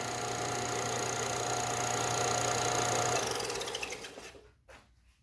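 A grinding tool works the valves of a 1977 MGB rocker assembly with a steady, loud whir that spins down and fades out near the end, leaving a couple of faint knocks.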